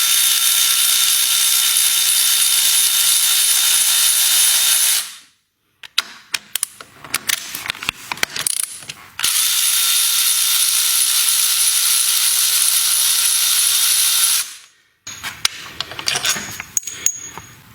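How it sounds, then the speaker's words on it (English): Ratchet wrench with a 14mm socket loosening motorcycle brake caliper mounting bolts, heard as close, bursty clicking and clattering passages separated by two long stretches of steady broadband hiss. "with a 14mm socket, I'm going to loosen and remove all 4 of the brake caliper mounting bolts"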